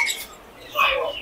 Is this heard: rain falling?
no